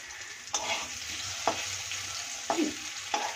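Potato pieces frying in hot oil for a Bengali rohu fish curry give a quiet, steady sizzle, broken by a few soft clinks and scrapes of a spatula stirring in the pan.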